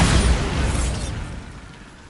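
A Bombarda spell explosion in a Harry Potter video game: one loud, close, broadband blast that fades away over about two seconds.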